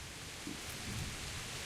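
Rain falls in the medieval open-world game Kingdom Come Deliverance, a soft, continuous wash of steady rainfall at low volume with a faint low rumble beneath and no talking.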